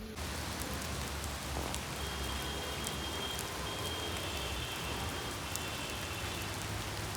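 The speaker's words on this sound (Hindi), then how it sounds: "तो यहाँ पे हो रही है बारिश।" Steady rain pours down evenly in McLeod Ganj, a dense hiss of drops on surfaces with no pauses and a faint low rumble underneath.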